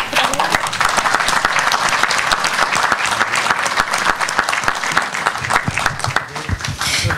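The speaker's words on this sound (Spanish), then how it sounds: "Aplaudimos." Audience at a Peru–Chile relations presentation applauding, a sustained, loud crowd of clapping hands running steadily for about seven seconds and tapering slightly at the end.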